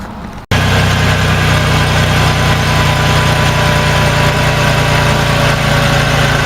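A car engine starts and idles steadily while old automatic transmission fluid is pumped out at home, a loud continuous low rumble after a brief gap at the start, with no talk.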